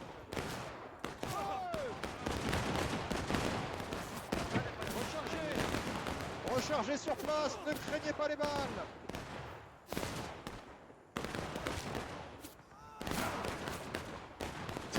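Massed musket volleys and artillery fire crackle and boom through an American Civil War battle video game, with Kershaw's brigade and the 3rd Alabama in the fight. The gunfire runs dense and continuous, with short lulls, and a voice talks over it.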